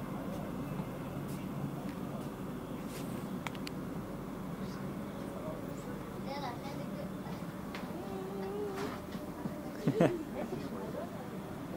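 Inside an empty moving train carriage in Germany, a steady low rumble and rolling hum fill the space, with faint rattles and a brief squeal near the end, no speech audible.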